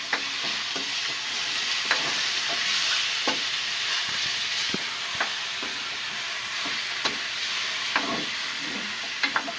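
Chicken for adobo sautés in a hot pan with a constant loud sizzle and occasional utensil taps and scrapes, no one speaking.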